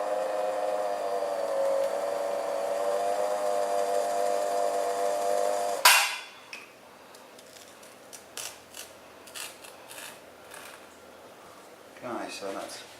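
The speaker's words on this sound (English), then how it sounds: "I'll get this rod spinning in the lathe, and then trim this off in the right place here." A metal rod spins in a lathe, giving a steady, close mechanical whine with a tonal hum; it stops abruptly, then scattered clicks and scraping trimming sounds follow, sparse and quieter.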